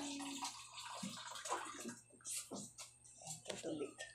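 Water runs and splashes from a tap while a person talks over it, the flow loud and close with gurgling bursts.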